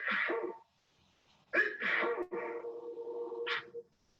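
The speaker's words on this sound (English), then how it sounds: "for this final test, he's sneezing in blue" A man sneezes several times in quick bursts during a hygiene test of tissue versus handkerchief, close and clear with short pauses between.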